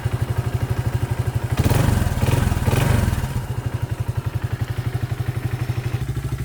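A Kawasaki Z200 motorcycle's small single-cylinder engine idles close by with a steady, rapid putter, briefly joined by a couple of louder thumping, clattering bursts before settling back to the even beat.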